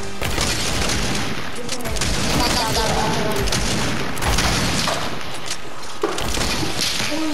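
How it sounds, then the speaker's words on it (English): Gunshots in the video game Fortnite, a busy stretch of loud, overlapping shots and booms with a few sharper cracks, and a voice also audible in the mix. "It's not fair. He shot me."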